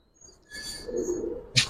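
Giribaz pigeons in a loft give a brief, soft, close coo, a short murmuring call ending in a quick flutter-like sound.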